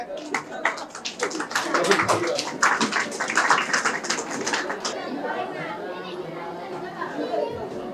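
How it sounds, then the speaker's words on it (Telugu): A crowd of students and teachers claps at a school event, with a burst of irregular handclaps for about four seconds amid lively children's chatter and background voices. "చప్పట్లు కొట్టండి."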